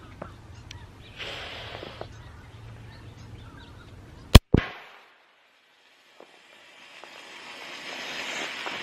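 A flare gun fired outdoors gives one sharp, loud pop followed by a brief echoing burst, then quiet with faint ambient noise after a stretch of low background sound.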